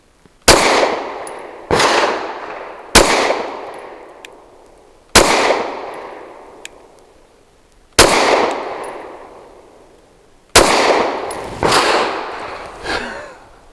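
Grand Power Q100 Mk23 pistol firing budget Sterling 115 grain ammunition outdoors, six sharp loud shots at irregular intervals, each followed by a long ringing echo decay.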